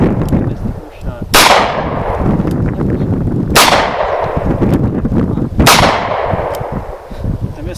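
Three loud, sharp gunshots from an EAA Windicator .357 Magnum revolver with a 2.5-inch barrel at a range, evenly spaced about two seconds apart, each a hard crack followed by a brief decaying ring.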